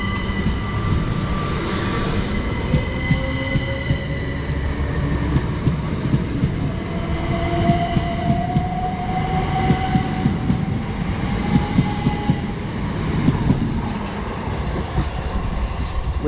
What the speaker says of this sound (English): off goes D2 375s heading off to London Charing Cross from Hastings